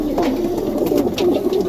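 Young Serbian Highflyer pigeons coo softly in a loft on a cold winter morning, a low, steady murmur of overlapping coos throughout, with faint rustling above.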